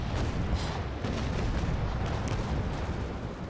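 Ship cannons firing in the naval combat game Naval Action, heard as a dense, continuous rumble of broadside booms with no clear gaps, loud and heavy throughout.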